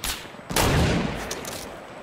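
Rapid gunfire bursts in Fortnite, a short crack followed by a dense, loud volley of shots that trails off over about two seconds, with no talking.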